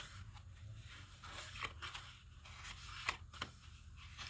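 Scissors snip through a small spiral thread tie-off on a Travelers Notebook journal, with a few short crisp cuts and light scraping heard up close and quiet with no voice.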